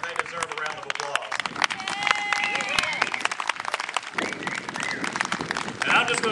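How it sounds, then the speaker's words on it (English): Audience at an outdoor Constitution Day rally breaks into sustained applause, dense clapping with some cheers and crowd murmur, fairly close and continuous throughout. "They've worked tirelessly all summer and they deserve a round of applause"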